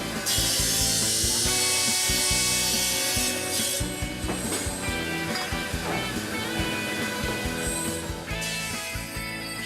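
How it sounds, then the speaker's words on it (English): A horizontal cast-iron disc grinder with silicon carbide abrasive grinds hand-cut lead crystal, giving a steady loud grinding and rubbing with clicking, scraping contact noises throughout, no talk. "Shaiba is a horizontal disc grinder."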